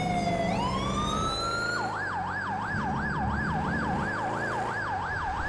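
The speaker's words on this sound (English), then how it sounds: "Had the car alarm blazing." A loud video game car alarm rises in pitch, then wails up and down in a steady, rapid cycle over a low engine rumble from an unmarked muscle car, with no talking.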